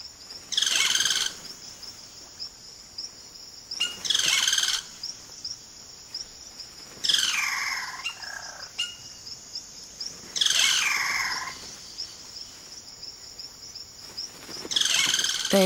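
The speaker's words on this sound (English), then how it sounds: "The cacique males now go about the important business of attracting a partner by puffing up their plumage and showing off their remarkable vocal range." Male caciques in the Amazonian forest give loud, sweeping, varied calls in bursts roughly every three seconds, set against a constant high insect drone.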